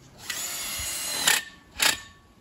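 A power drill drives two screws into a black aluminium flat-top pool fence post just under the post cap, two short loud whirring bursts close by with a quieter hum between them.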